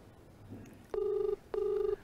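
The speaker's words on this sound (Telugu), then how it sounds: "ఎస్, నిఖిల్ ఫోన్ రింగ్ అవుతుంది." A telephone rings twice in a steady electronic ringback pattern, each tone lasting about half a second, clear and fairly close with quiet background.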